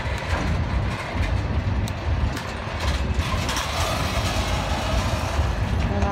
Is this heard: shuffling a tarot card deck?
no